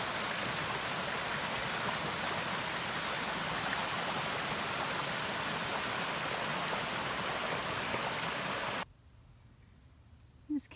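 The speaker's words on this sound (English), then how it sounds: "A little pretty little creek here." Babbling creek water flows steadily beside the Appalachian Trail in Virginia, a dense, continuous close rush that cuts off abruptly near the end, leaving a quiet gap with a faint brief sound.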